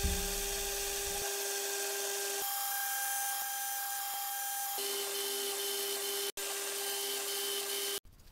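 A small hobby milling machine cuts with an end mill to reset a previously drilled hole while building a custom hydraulic tool, giving a steady high-pitched whine with grinding texture that shifts in pitch between passes and stops briefly near the end.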